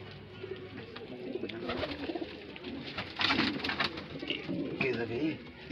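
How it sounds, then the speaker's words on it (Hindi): Domestic pigeons coo softly in a loft in Bareilly, Uttar Pradesh, with low throaty calls repeating close by and a few sharper sounds mixed in. "ये सब उड़े हुए हैं मेरे कबूतर।"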